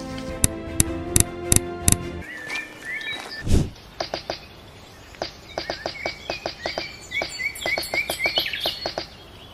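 Forest birds chirp and sing in short bright bursts and trills, some close and some farther off, after a brief run of sharper repeated tonal notes at the start.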